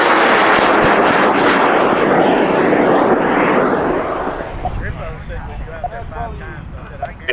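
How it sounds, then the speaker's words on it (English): High power rocket lifting off on an EX L964 motor at an outdoor launch in Argonia, Kansas, a loud roaring rush that holds for several seconds and then fades as it climbs away, with people talking and cheering as it quiets. "going up on an EX L964, and we're going in 5, 4, 3, 2, 1, launch."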